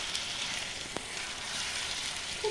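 A chicken curry masala paste with tomato sizzles softly in a pan of hot oil, a steady low frying hiss with a single brief clink partway through.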